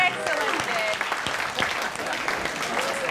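Studio audience applauding on the Rockwiz music quiz show set, a steady wash of clapping that holds at a fairly loud level throughout with no break.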